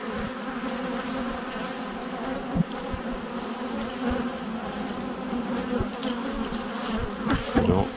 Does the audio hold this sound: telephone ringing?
no